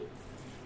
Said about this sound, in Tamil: ஒரு கிளாஸ் தண்ணி ஊற்றி